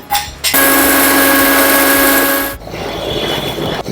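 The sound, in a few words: mixer grinder grinding roasted sesame seeds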